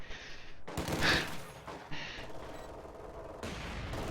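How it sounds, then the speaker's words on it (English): Mortar bombarding infantry from range in a competitive strategy game, with a burst of sharp, loud firing blasts and explosions. Dense rumbling impacts follow and keep the sound busy throughout. "Mortar's trying to soften up infantry from range while it has an opportunity."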